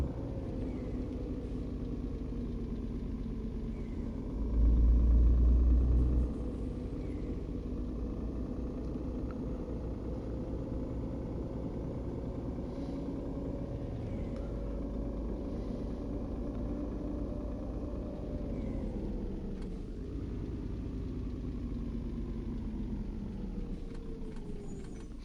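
Steady, low rumbling Scania truck engine from a driving game, droning evenly at cruising speed with a brief heavier thump early on and a slight pitch drop near the end.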